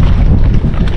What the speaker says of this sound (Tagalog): Medyo mahangin yung umaga namin ngayon